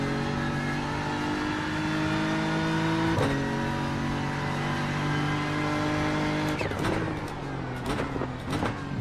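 A GT3 race car engine in the iRacing sim, droning loudly at high revs with sharp gear shifts and throttle blips that break the tone several times toward the end.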